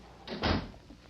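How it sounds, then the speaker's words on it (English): A door shuts with a single soft thud and brief rattle, close by, in a quiet room. "Close the door, Corporal."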